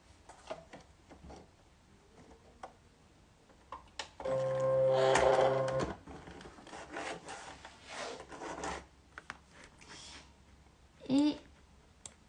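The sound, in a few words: Silhouette cutting machine loading the mat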